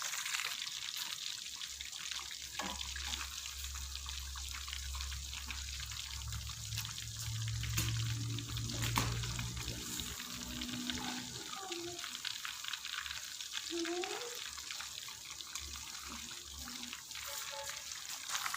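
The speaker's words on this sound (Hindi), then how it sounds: "ये देखें लो फ्लेम पे ये ऐसे पक रही है, काफ़ी देर ये पकती रहेगी।" Masala-coated fish fries on a low flame, giving a steady, soft sizzle that hisses continuously for close to twenty seconds, with a few faint clinks and a brief voice in the background.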